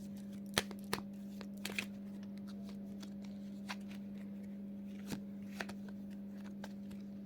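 Tarot cards are handled and drawn in a quiet room, with sparse soft flicks and snaps of card stock over a low steady hum.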